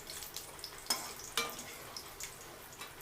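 Tomato pieces are dropped into hot oil left from frying green chillies, giving a soft, close sizzle with a few sharp spits and crackles.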